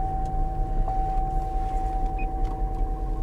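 An idling car engine at a Copart salvage lot, listed as a non-runner with no power steering and 149,000 miles, hums low and steady up close, with a constant whine over the rumble and no talking.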